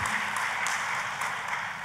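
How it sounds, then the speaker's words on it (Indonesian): Church congregation applauding at a worship service, a dense steady wash of clapping from many hands at a moderate distance, with no voices over it. "Tepuk tangannya boleh paling meriah buat Tuhan kita"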